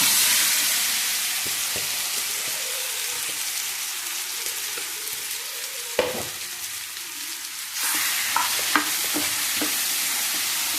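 Plantain slices frying in ghee, a dense, steady sizzle like rain on a surface, close and continuous, with occasional sharp spatters and clinks of a stirring spoon and no voices.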